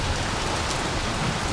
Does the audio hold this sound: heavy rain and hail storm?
yes